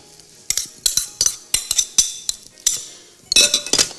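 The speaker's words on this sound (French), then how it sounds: "On va mélanger le poisson." Raw fish for a tartare is mixed in a bowl with coriander, lemon and olive oil, a series of sharp clinks and scrapes of utensil against the dish in quick irregular strokes, close up, with a louder flurry near the end.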